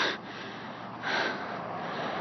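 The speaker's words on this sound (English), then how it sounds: "I'm heavy breathing." Heavy, labored breaths rush in and out close to the microphone, two deeper gasping pulls standing out against a steady windy hiss.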